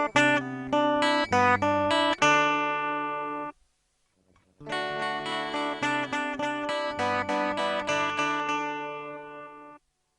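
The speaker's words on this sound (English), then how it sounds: "and then you will hear the same sound processed by the simple echo." A musical sound is played dry, then after a short pause repeated with a simple digital echo effect, the notes smearing into trailing repeats that ring on before cutting off; no one speaks.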